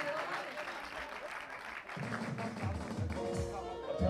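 Soft audience clapping follows a tabla performance at a talent event, fairly distant and quiet, with a voice starting to talk over the tail of the applause.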